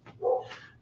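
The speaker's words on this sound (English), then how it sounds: "These dogs are going crazy." A dog gives a single short, close bark with a yelping whine trailing after it.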